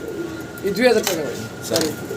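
Giribaz fancy pigeons coo in low, throaty bursts close by, with a few rising calls and light background noise.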